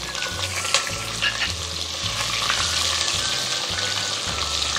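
Medium-size chopped onion frying in oil for chana pulao, a loud steady sizzle with rhythmic stirring scrapes every second or so, close up and without speech.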